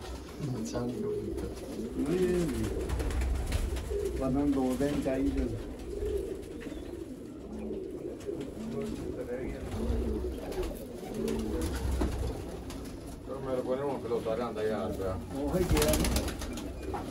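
Pigeons coo repeatedly in soft, throaty bursts close by, mixed with people talking over a low background rumble, in Sialkot.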